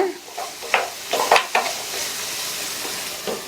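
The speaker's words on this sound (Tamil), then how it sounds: "கேரட் வெந்துட்டு இருக்கும்போது இடையில ஓப்பன் பண்ணி இந்த மாதிரி கலந்து விட்டுருங்க" Carrots sizzle in a frying pan while a utensil scrapes and stirs through them in a few quick strokes, close up.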